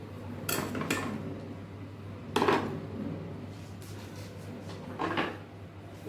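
Clatter of a pot of payesh, a Bengali rice pudding, being lifted off a gas stove after the flame is switched off: a few close metallic knocks and scrapes separated by pauses over a steady low hum.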